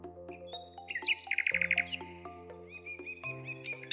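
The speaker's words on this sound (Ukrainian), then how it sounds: "А це співає пташка." A small bird sings a bright, rapid trill of chirps and whistles, close and clear, over a faint steady background hum.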